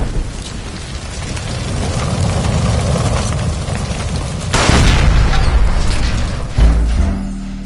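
A gas line blast in the crime game L.A. Noire: a loud, rumbling explosion with dense crackling debris, swelling sharply midway and bursting again near the end, with no talking.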